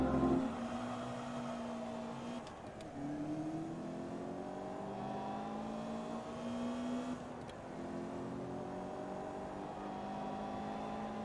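The engine of a Sprinter race car in Forza Motorsport 2 revs hard through the gears during a semi-pro Goodyear 150HP Invitational race, its pitch climbing steadily and dropping back at two upshifts, loud and without talk.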